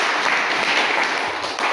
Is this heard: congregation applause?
yes